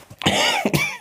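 A single person gives a short, harsh cough in two quick bursts, close and clear with no talking.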